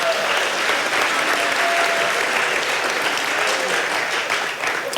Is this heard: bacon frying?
no